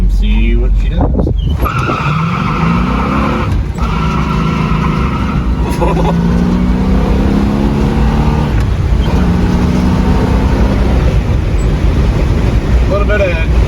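A 1971 Buick GS Stage1 four-speed convertible drives on back roads, its V8 engine droning steadily and loud throughout, rising and falling in pitch as it revs through the gears.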